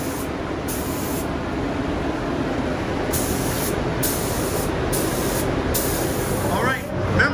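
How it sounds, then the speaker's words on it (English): Steady hiss of spray paint coating a bowling pin wrapped in masking tape, applied in light passes with brief pauses, close and continuous throughout. "She's putting the first coat on. She's gonna put it on real light so that it doesn't bleed underneath of this masking tape."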